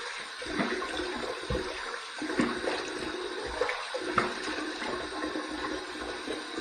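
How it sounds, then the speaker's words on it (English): Hot water from a shaving puck is dumped into a sink of water, giving an uneven splashing and gurgling wash with several stronger surges over about seven seconds. "Let's take this hot water off the puck right here. Let's dump that in the water."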